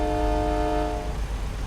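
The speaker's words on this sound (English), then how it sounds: "we have an air horn that sounds like a fucking train" A loud, sustained multi-tone truck air horn blares like a train horn, then cuts off, leaving steady engine rumble underneath, in the video game American Truck Simulator.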